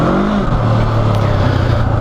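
A 2019 Honda CB500X motorcycle engine lugging steadily up a dirt trail on the Cleghorn Hard Split trails, a loud, close, continuous low drone without pause.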